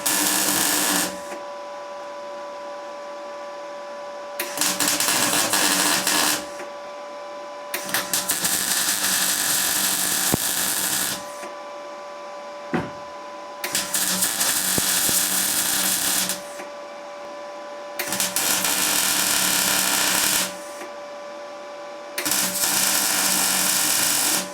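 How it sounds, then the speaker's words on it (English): MIG welding of a patch onto a Honda CB500 motorcycle frame, with steady crackling buzz in several bursts of a few seconds each, separated by short pauses, loud and close. "Time to weld it in place."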